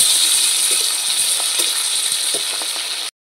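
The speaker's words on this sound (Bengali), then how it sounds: "মাছগুলো এক পিঠ ভাজা হয়ে গেছে, আর এক পিঠ উল্টে দিচ্ছি।" Pieces of pabda fish frying in hot oil as they are turned over, a steady close sizzle broken by soft clicks and taps of the utensil, cutting off abruptly at the end.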